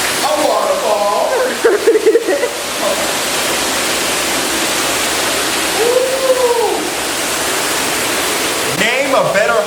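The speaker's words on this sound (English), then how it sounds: "You get them to come out that ceiling. A waterfall." Hotel room ceiling waterfall feature running, a loud, steady rush of falling water throughout, with brief bits of voice and other sounds over it.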